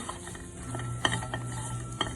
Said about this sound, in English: So now we need to saute this quite quickly.